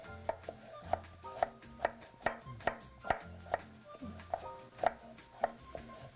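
A knife slices sea snail lengthwise on a cutting board, a steady run of about a dozen crisp, evenly spaced chops, close and fairly quiet with no talking.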